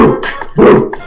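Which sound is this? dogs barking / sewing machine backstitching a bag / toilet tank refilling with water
dogs barking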